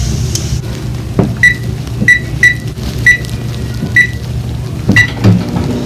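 A microwave oven running at 50% power, heating s'mores, gives a steady low hum throughout, with a series of short, evenly spaced beeps in the middle and a faint clunk near the end.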